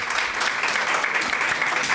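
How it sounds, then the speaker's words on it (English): Loud, dense applause from a conference audience at the Africanisation-Decolonisation Indaba, steady and unbroken for the whole two seconds with no voices over it. "please join me to give a round of applause to our contributors and everybody"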